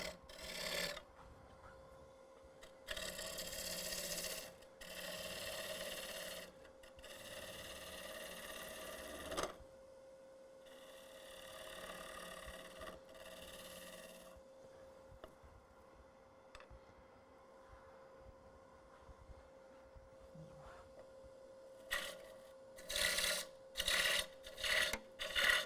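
A wood lathe roughing a tenon on a wet green wood bowl, giving bursts of gritty, hissing cutting against a low motor hum, starting and stopping, quiet overall.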